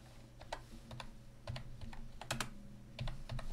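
Key clicks from a computer keyboard typing in short irregular bursts with pauses, fairly close and moderately quiet, over a faint steady hum, during a Photoshop tutorial.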